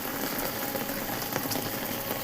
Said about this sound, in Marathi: नदी समुद्रासारखं लाटा गोंगावतं